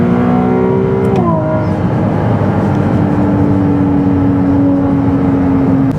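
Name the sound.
Ferrari 296 GTB engine revving while driving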